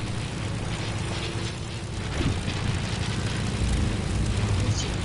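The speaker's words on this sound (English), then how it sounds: "These planes are so loud." Airplanes flying in a PS4 video game, a loud continuous roaring engine drone that swells slightly partway through and stays steady and dense throughout, with no voices.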